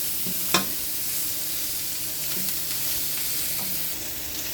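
Garlic, onion and meat sautéing in a pan without added oil, an even close sizzle with an early sharp clink and light stirring scrapes.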